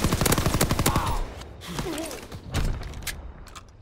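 Rapid bursts of gunfire from a competitive first-person shooter match, loud repeated volleys up front followed by scattered shots, with a player talking over them.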